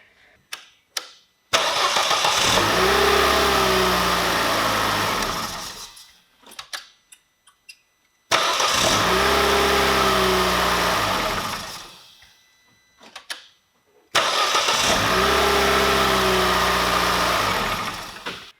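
An Opel Corsa C engine after a starter motor replacement, started three times in a row: each time a brief starter crank catches into a loud, steady idle that runs several seconds before being shut off, close up with no talking.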